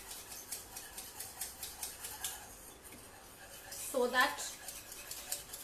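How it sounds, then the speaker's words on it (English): A blancmange mixture is whisked in a pan, the whisk ticking against the metal in a quick, steady rhythm, close and moderately loud, with a brief spoken phrase near the end. "I'm whisking it"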